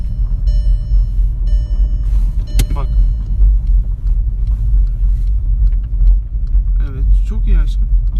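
A car driven by a learner idles and revs with a steady low engine rumble throughout, while people talk in the car over the running engine.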